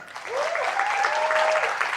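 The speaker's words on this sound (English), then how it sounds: "Round of applause, please, for Valerie." An audience at a Nomad Cruise gathering applauds a speaker taking the stage, with full, even clapping swelling in after a brief start and a single rising whoop or whistle riding over the crowd.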